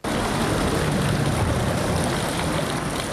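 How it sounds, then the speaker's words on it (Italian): Floodwater rushes steadily through the walls of a flooded road underpass at San Biagio in the Veneto, a dense, continuous roar of flowing water that stays loud and unbroken throughout, with no voices. "con l'acqua che scorre attraverso i muri."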